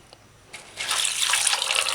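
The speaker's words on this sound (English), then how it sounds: "So let's throw some water on this and soak it." Water is poured over dried veggie chunks in a bowl to soak them, a steady, bright rushing splash that starts abruptly about halfway through and continues close and loud without talk.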